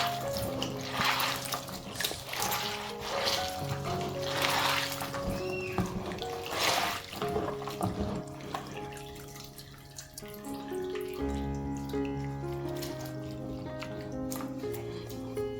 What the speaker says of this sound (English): I rinse the beans thoroughly using a sieve and plenty of water